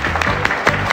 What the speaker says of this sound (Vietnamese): chúng ta hãy cho một tràng pháo tay cho bạn Nguyễn Ngọc Sơn